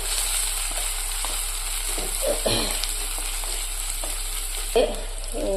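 Green chillies sizzling in a pan for a mackerel curry, a continuous close frying hiss with occasional scrapes and knocks of stirring on top.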